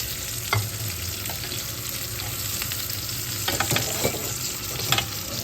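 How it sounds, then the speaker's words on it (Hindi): Vegetables frying in a pan after chicken, a steady close sizzle with occasional stirring scrapes and small pops, no talking. "और इन चीज़ों को थोड़ा सा और पकने देती हूँ ताकि वेजिटेबल भी अच्छे से फ्राई हो जाए"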